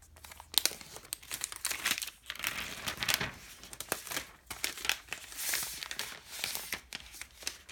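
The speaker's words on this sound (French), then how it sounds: "On va reprendre tout de suite le petit iPad et on va l'ouvrir." Crinkling and tearing of iPad Pro packaging being opened by hand, with a steady run of close, fairly loud rustles and rips and no talking.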